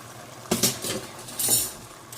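Utensil stirring chicken bachoy soup with chicken feet and liver in a pot, giving two short bursts of scraping and clinking close by, with no talking.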